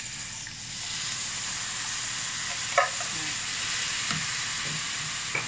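Tomatoes frying in a pan for a chicken curry give a steady, even sizzle throughout, with a couple of faint clinks and stirring sounds, heard alone without talk.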